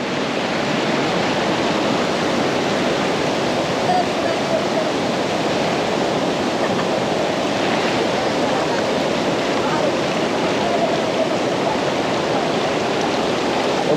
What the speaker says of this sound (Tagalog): Sobrang lakas ng baha mga kapatid.